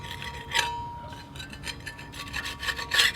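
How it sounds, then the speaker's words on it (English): A scraper drags bubbled paint off the metal of new track links for a CAT D7R dozer, giving several short, gritty scraping strokes close by at an uneven rhythm, with no talking. "you take a scraper, scrape the paint off as much as you can"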